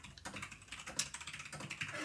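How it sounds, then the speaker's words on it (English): Rapid computer keyboard typing, keys clacking in a quick irregular rhythm, close and fairly quiet throughout with no voices. "I hear the keyboard just clacking away."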